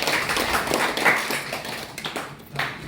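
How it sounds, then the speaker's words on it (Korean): Audience applause after a lecture on international security by a former ambassador to Russia, a short burst of dense clapping from a room of listeners, uneven and fading slightly before a final swell. "아유 다시 한번 큰 박수 부탁드립니다"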